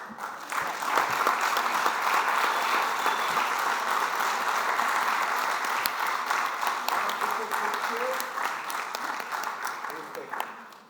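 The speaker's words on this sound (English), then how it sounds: "A warm applause" Warm applause at a general council meeting, a sustained, full-room clapping at fairly close range that holds steady for several seconds before tapering off, with faint voices underneath near the end.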